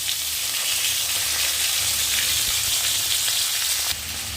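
Raw tomato hits hot mustard oil, used first for frying small puti fish and tempered with mustard seeds and a dried chili, setting off a loud, dense, continuous sizzle that holds steady throughout.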